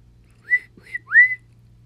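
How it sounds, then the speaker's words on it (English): A whistle sounds three short shrill blasts in quick succession, close and clear against a quiet background, the last blast rising and held a little longer. "That's when Lucille's daddy blew his whistle again."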